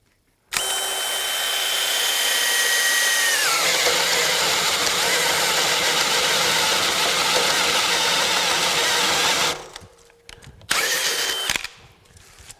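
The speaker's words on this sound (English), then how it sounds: "Now you can definitely see that we stopped this drill" A loud cordless drill with a 3 5/8 inch bit and 5 amp hour battery whines steadily for several seconds as it bores a large hole in wood, then stops abruptly, followed by a brief short burst of drilling.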